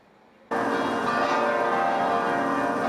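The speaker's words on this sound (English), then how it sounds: "Bells tolling in celebration as the new leader of the Catholic Church is announced." Church bells at the Basilica toll loudly in celebration after a new leader of the Catholic Church is announced, the dense, sustained ringing starting abruptly and filling the whole stretch without pause.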